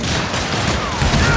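Rapid gunfire from the Western shooter game Call of Juarez Gunslinger, a loud dense volley of shots lasting over a second with no gaps.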